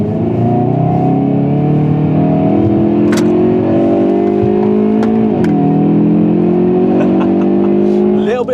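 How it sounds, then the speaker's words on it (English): A Hyundai i30N Drive-N Limited Edition manual hot hatch accelerates hard on country roads; the engine note climbs steadily from inside the cabin, dips briefly at a gear change, then builds again, loud and sustained. "Bit of torque steer when we're accelerating very hard"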